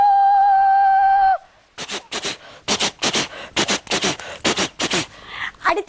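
A human voice imitates a passing train during a stage performance, opening with a sustained horn-like whistle tone, then breaking into a series of rhythmic, breathy chugging bursts that quicken and repeat, loud and close.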